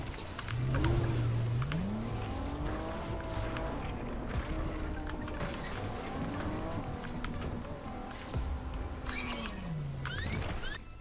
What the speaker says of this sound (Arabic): في واحد ركب السيارة ومشى